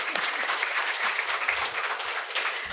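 Steady applause from a memorial lecture audience, dense and continuous clapping filling the whole moment without pause.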